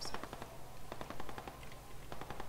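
Bursts of rapid gunfire in the video game Squad rattle in short volleys, somewhat distant and moderately quiet, with brief pauses between strings of shots.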